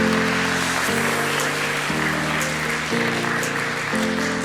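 Audience applause at the FLIP 2022 trophy awards ceremony, steady clapping from a crowd throughout, with background music playing underneath.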